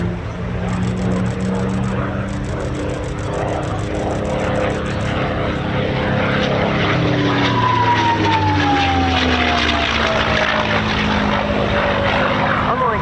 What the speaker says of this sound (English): carries the markings of the personal aircraft of one of the greatest of all American aces of the Second World War, Colonel Don Blakesley